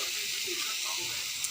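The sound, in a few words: spices with ginger frying in a pan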